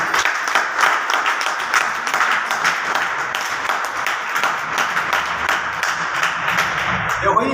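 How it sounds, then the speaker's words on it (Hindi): A seminar audience at a motivational training session breaks into sustained applause, a thick, lively roar of clapping that runs steadily for several seconds, with a voice faintly audible near the end. "हमारे सुरेंद्र सर के लिए बार जबरदस्त ताली चाहूंगा"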